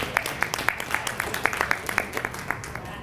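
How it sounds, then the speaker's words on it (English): Scattered hand claps from an audience at a Dayton NAACP annual meeting, applauding Chris Schott: distinct individual claps in an uneven rhythm, fairly sparse, over a faint room background with light voices. "Let's give a hand clap for Chris Schott."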